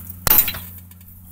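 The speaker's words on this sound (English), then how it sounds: "we're going to use our 12 millimeter combination wrench" Two 12 mm combination wrenches, one hooked onto the other for leverage, clink sharply on a steering bolt while removing the pitman arm from a Nissan D22 power steering gearbox. One crisp metallic clink sounds over a low electrical hum in a quiet garage.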